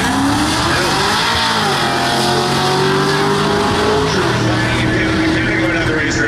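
A supercharged 2003 Mercury Marauder drag racing down the strip, its engine roaring loud and steady as it pulls hard through the run, rising in pitch with a sustained, dense exhaust note.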